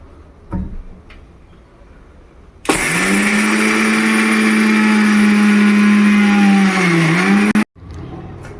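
Mixer grinder whirring loudly as it grinds peanuts, a steady motor roar of about five seconds that starts abruptly, dips in pitch near the end and cuts off, with quieter handling noises before and after.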